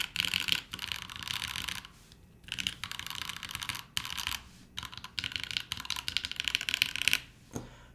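Brisk typing on an Ayleen TKL mechanical keyboard in its O-ring mount, heard up close as rapid clacky keystroke bursts separated by short pauses, with no talking.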